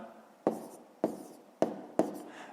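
A pen writes digits by hand on paper while working a decimal column-subtraction problem, making four quiet, evenly spaced scratchy strokes, each about half a second apart, in a calm room.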